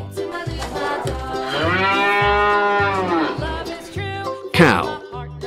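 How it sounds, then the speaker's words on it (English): A single long cow moo, loud and close, rising and holding before trailing off, set over a steady rhythmic backing beat with a brief bright sound near the end. "Cow."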